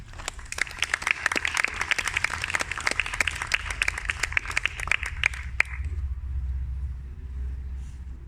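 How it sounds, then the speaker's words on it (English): Audience applause for poet Alan Hill at an outdoor poetry evening in a park, with scattered, moderately sized clapping from a small crowd that stops after about five seconds, leaving low outdoor rumble. "Would you please give a warm round of applause to Alan Hill."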